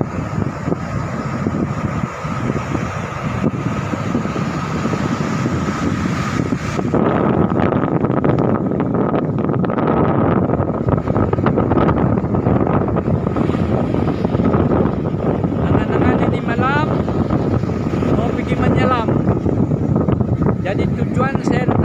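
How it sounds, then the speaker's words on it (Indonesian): Strong wind buffets the microphone at the seashore while big waves churn, a loud continuous roar throughout with someone talking over it. "Nah, ombak besar guys."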